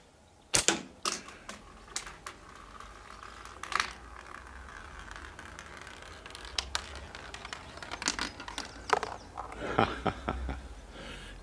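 Hard balls from a slingshot rattle and clatter into an auto-return catch box. The impacts are sharp and irregular, some arriving in quick double hits, over a quiet background.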